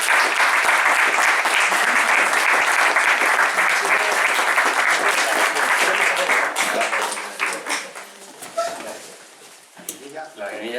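A large audience at a tabletop role-playing game event breaks into loud, sustained applause and cheering, holding steady for several seconds before thinning out toward the end. Scattered claps linger as it fades.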